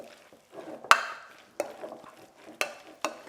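Spinach filling mixed with egg in a bowl for spanakopita: a few sharp spoon-against-bowl knocks spaced about a second apart, with soft wet squelching stirs between them.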